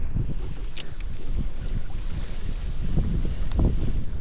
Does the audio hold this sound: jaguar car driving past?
no